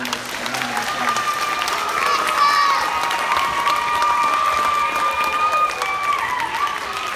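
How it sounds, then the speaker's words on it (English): Applause and cheering from a school assembly audience of children and adults honoring 4th grade award winners, steady clapping and scattered shouts filling the room for several seconds with no talk over it. "Would you please give the 4th grade excellent award winners a round of applause."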